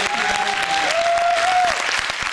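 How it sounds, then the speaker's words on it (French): An audience at a student debate contest applauds a speaker, a full, sustained burst of clapping with a faint voice or whoop rising briefly above it. "Oui, on peut applaudir Gwendoline à nouveau."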